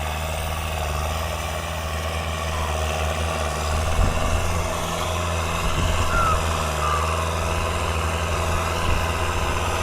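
Turbocharged truck engines idle together in the open, a steady low rumble with mild vibration and slight swells in loudness, no voices heard.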